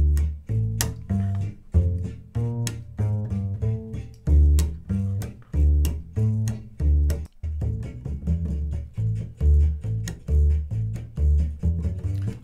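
Double bass picked up by a pair of Lewitt pencil microphones with a heavy low-shelf cut, a steady walking line of plucked notes with bright string detail, played alone at close range.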